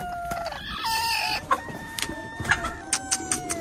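Chickens clucking and squawking nearby on a village farm, with a rooster-like call early on and a series of short, sharp cackles rising over a steady background.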